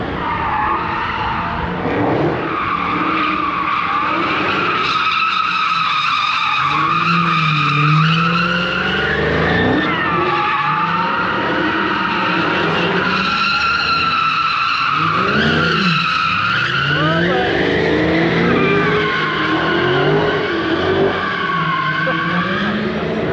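Dodge cars on a thrill-ride course at a classic car auction event: continuous loud tire squeals and skidding with rising and falling pitch sweeps, mixed with engine revving, running nonstop for over twenty seconds.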